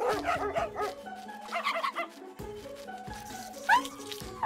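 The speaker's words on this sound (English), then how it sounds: "That is a dog, yes. It's a robot dog." A robot dog in the Bokura video game gives a series of short electronic barks and yips, close and fairly loud, with musical game tones underneath.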